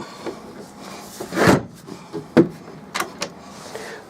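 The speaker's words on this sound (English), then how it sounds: "Close the door up." The door of a 2004 Ace Jubilee two-berth caravan is pushed shut nearby, a soft thud and latch click among a few smaller knocks and rattles, with no voices.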